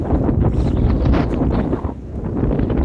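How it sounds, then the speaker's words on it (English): Strong Storm Isha wind buffets a hilltop on The Lawley, a loud continuous roar with gusty rumbling close to the microphone and no voices. "this wind wants to take us down"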